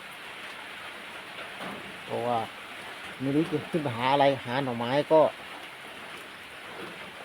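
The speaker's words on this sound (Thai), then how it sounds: "มันฝนตกแบบนี้นะครับอีกที" Rain falls steadily as a soft continuous hiss in a rural hillside setting, heard throughout beneath someone talking in bursts.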